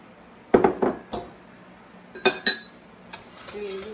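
Brown sugar and oats being whisked in a bowl, a few quick clinking scrapes of the whisk against the bowl in short bursts, fairly close, with long quiet gaps between.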